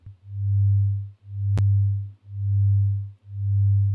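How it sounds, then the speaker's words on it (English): A smooth low synthesized tone made in Ableton swells and fades in even pulses, about one per second, steady and clean, with a single brief click partway through and nothing else. "we put the phase all the way to 360, and now it's basically just a pulsing sound"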